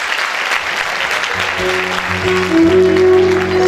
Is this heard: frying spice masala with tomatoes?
no